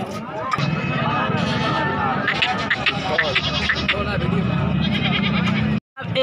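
Makhi Cheeni goats bleating at the Khairpur goat market, several overlapping loud, wavering bleats close by amid crowd babble and voices talking, continuous until a brief cut near the end.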